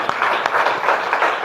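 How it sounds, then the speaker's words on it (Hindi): An audience claps together in a dense, continuous burst of applause, fairly loud and steady for its whole length. "उनके लिए दिल से ताली दीजिए"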